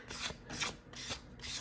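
Light hand-sanding of a primer coat on yellow foam, four steady rasping strokes in an even rhythm, close and fairly quiet with no talking.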